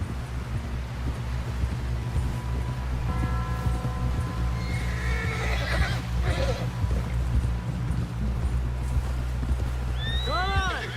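Horse hooves from Red Dead Redemption II, a steady rhythmic clip-clop running through the whole stretch under wind, ambient game sound and some speech, with a horse whinny near the end.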